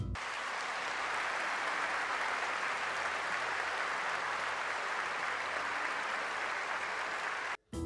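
An audience applauds a political speech with dense, sustained clapping that holds at a steady level for about seven seconds, then breaks off abruptly before resuming briefly.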